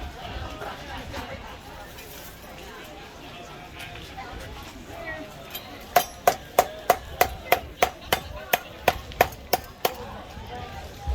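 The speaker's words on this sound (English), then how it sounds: "So there I was just hammering in to adding a little bit of dimension to the belly and the leg." About a dozen sharp, evenly spaced hammer blows on hot metal shaped into a carved wooden form at a forge ring out after several seconds of low background murmur, loud and close.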